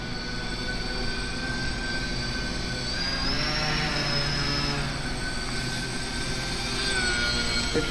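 A small indoor electric airplane from Budget RC runs with a continuous high-pitched motor whine and buzzing propeller, the pitch rising briefly mid-way as the throttle changes, close and steady throughout.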